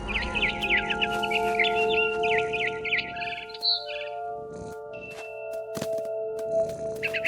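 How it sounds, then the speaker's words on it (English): Barn swallow chirping outside a window in the game What Remains of Edith Finch: rapid bursts of bright twittering calls through the first few seconds, then sporadic clicks and cracks over a steady low hum, with no talk. "Then I heard chirping outside my window. It was a barn swallow going back to her nest."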